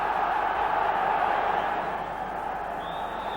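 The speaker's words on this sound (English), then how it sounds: "Another good crowd here today" Large football crowd at Anfield stadium for Liverpool against Manchester City in 1986, a continuous dense roar of massed voices filling the ground, loud and steady throughout.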